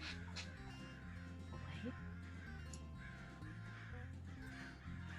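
Crows cawing in a tabletop RPG set in a Deadlands Weird West, several calls rising over a steady layered backdrop of ambience and music, with some talk faintly underneath.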